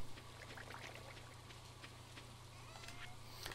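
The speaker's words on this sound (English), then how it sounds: "even though you wouldn't think it with all this lovely rain" Steady rain in the farming game Stardew Valley, a soft continuous patter with scattered drip-like ticks, fairly quiet and even throughout with no talking.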